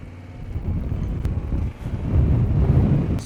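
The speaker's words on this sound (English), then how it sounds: "Super windy" Strong wind on the northern tip of Newfoundland buffets the microphone in a steady low roar that swells louder in the second half, with no voices.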